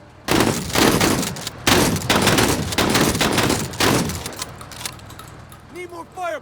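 Close-range shotgun blasts in MENACE, several loud, spaced bursts in an irregular rhythm, followed by quieter mechanical clatter and a short voice-like tone near the end.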